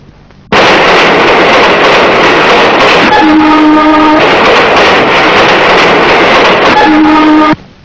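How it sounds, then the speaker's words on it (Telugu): A train rumbles loudly and steadily past at close range, with two sustained horn blasts sounding over the continuous roar of the wagons. "రైలు"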